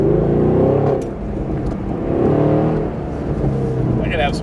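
Chevrolet Camaro SS engine heard from inside during a ride-along, a loud rumbling drone that swells and eases as it revs, with a passenger's voice over it.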